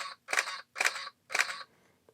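A Canon EOS Elan (EOS 100) film SLR fires its shutter three times in even succession, each a crisp mechanical clack with a short motor whir, close and clear against silence.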